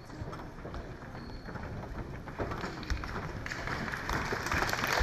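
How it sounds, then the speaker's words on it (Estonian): Applause at a school gathering for returning graduates, a dense patter of clapping that builds steadily over a few seconds from a moderate level to louder, with a crowd filling the room. "Aplaus muidugi."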